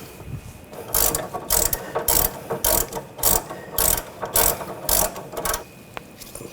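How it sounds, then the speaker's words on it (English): A ratchet wrench tightens the nut on a front sway bar link stud of a 2014-2020 Nissan Rogue, clicking in about eight steady, evenly spaced bursts of close, crisp ratcheting. "I'm going to use a 21mm wrench on the stud. And tighten down the nut."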